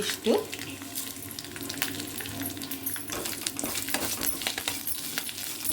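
Cumin seeds hit hot oil over a low flame, crackling and sizzling in a pan with a sharp initial spatter, then a busy, steady fizz of popping bursts close by.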